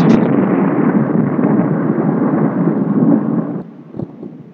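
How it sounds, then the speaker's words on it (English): Thunder rumbles in one long, loud, close roll that holds steady for several seconds before dropping off abruptly, with no voices. "No more thunder."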